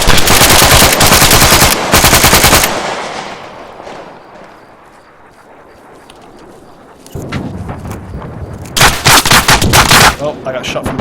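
Machine gun fire in the military shooter Arma 3 with the JSRS Dragonfyre sound mod: loud, rapid bursts open the clip, fade into a lull of distant echo, then return as heavy close automatic fire with overlapping shots.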